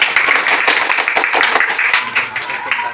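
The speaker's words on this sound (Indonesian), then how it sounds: "kita sambut dengan" Audience clapping at a training session, a steady dense patter of many hands at moderate loudness lasting a few seconds with no talk over it.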